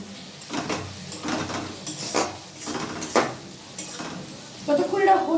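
About six slit green chillies sizzle in hot oil in a pan while a utensil stirs them, scraping the metal in repeated strokes over a steady frying hiss, close and with no talking.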